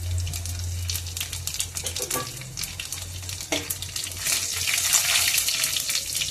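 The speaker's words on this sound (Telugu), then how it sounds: "ఎండుమిర్చి వెల్లుల్లి రేఖలు వేసుకుంటున్నాను. చూడండి జీలకర్ర కూడా వేస్తున్నాను" Dried red chillies, garlic slices and cumin seeds fry in hot oil for a gongura curry, making a continuous, close, loud crackling sizzle with occasional stirring scrapes that swell toward the end.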